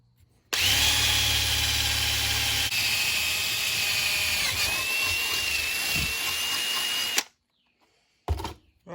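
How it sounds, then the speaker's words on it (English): Electric drill boring a 1/4 inch hole for a fog light bolt on a 1977 Ford 4x4 truck, a loud steady whine running for about seven seconds, then stopping, with a brief knock afterward. "I'm gonna go drill it out and open it up to a 1/4 inch hole for this bolt to fit through."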